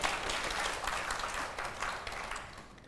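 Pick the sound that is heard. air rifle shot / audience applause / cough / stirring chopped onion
audience applause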